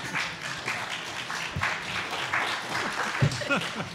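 Audience applause at a panel discussion with former deputy secretaries of homeland security, a steady crowd clapping over four seconds with laughter and talk mixed in beneath it.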